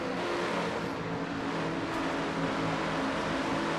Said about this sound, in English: And Sky Cummins in car 26 looking to the low side as well